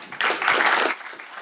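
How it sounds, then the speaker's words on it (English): One person claps their hands at a Somali cultural festival launch event, a brief run of quick, close claps lasting under a second against a quiet room. "I'm clapping for myself"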